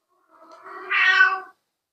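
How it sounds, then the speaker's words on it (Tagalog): A pet cat gives a single drawn-out meow, rising and then fading, heard close and alone against silence. "pasensya na sa pusa ko"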